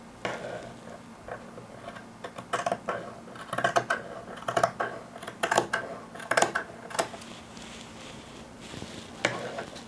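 Scissors snip through stacked fabric pieces for a sanitary pad holder, a series of close, crisp cutting crunches in irregular bursts over quiet room tone.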